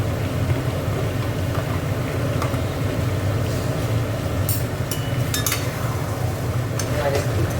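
Ginger garlic paste is stirred in a pan with a steady low scraping of a spoon against metal, a faint sizzle beneath, and a few light clinks near the end.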